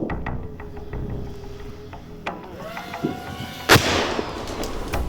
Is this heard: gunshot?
yes